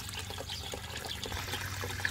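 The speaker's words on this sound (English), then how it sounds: "the pump quiets down and the flow of water is good now" Water from a pond pump pouring into a basin at a DIY lotus pond with filter and waterfall, a continuous bubbling trickle and splash with no talking.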